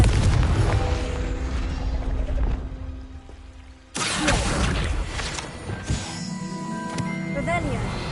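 Confringo fire spell explosion from Hogwarts Legacy on PS5: a sustained fiery boom with rumbling burst and whooshing tail, followed by lighter magical crackles and chimes, with game speech over it.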